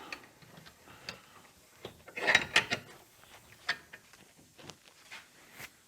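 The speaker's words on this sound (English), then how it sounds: "Let's go ahead and switch this around in the vise." A workpiece being shifted and clamped in a bench vise during buster sword maintenance: scattered light metallic clicks and ratchet-like ticks, with a denser cluster of knocks midway, fairly quiet and close with no talking.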